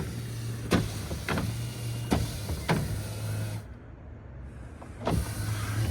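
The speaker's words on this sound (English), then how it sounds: "Tonneau cover still works. Doesn't make the best noises, but didn't make the best noises even on day one" Powered tonneau cover on a Rivian R1T truck running with a steady motor whine under a hissy background, punctuated by several sharp clicks and knocks spaced a second or so apart.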